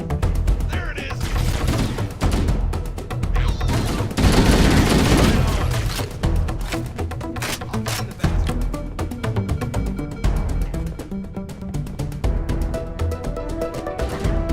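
Gunfire from the shooter Halo: Combat Evolved Anniversary, with dense, rapid bursts of automatic weapons and heavier thumps crowding a loud, chaotic firefight, and brief shouted voices between volleys.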